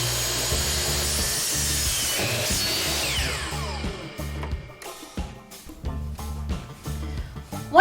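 Power saw cutting an angle into a wooden truss board for a shed-to-cottage build, a loud continuous motor whine that bites and strains for a few seconds, then stutters and drops into short bursts.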